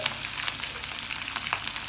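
Chilies sizzle and crackle in hot oil with asafoetida, a steady frying hiss broken by small pops, with no talking.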